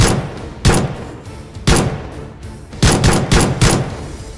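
Gunfire from attackers shooting several rounds at a house in a residential lane in Mahendra Park, Jahangirpuri, Delhi. There are about seven sharp, loud cracks, some single and some in quick pairs, over a rough background hiss, with no talking.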